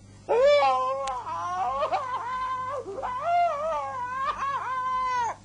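A voice imitates the cry of a wild cat before it pounces, a wavering, yowling, whimpering series of rising and falling wails delivered close and loud in several bursts.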